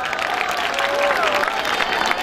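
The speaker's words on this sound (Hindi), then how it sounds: "आपकी तालियां साथ साथ ज़रूर होनी चाहिए" An audience applauding at the Jashn-e-Baharan festival, brief crowd clapping and murmur heard alongside a voice speaking over it.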